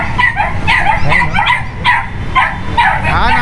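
A purebred poodle barks and yips in a quick run of sharp, high calls repeating every half second or so, close by and loud, amid people talking at a pet sale.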